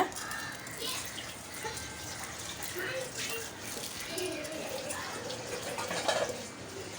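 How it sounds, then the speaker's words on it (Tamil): Ragi vermicelli being rinsed in a bowl of water, with steady soft sloshing and trickling splashes running throughout, some louder swirls near the end, and faint background voices. "தண்ணியை சேர்த்துட்டு இதை வந்து அப்படியே நல்லா அப்படியே நம்ம அலசி விட்டுக்கலாம் இந்த சேமியாவை நல்லா வாஷ் பண்ணிக்கோங்க"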